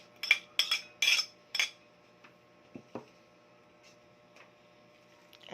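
A spoon mixes garlic, onion and carrots in a bowl, giving four bright clinks against the sides in quick succession, then a few softer, scattered taps fading into a quiet hum.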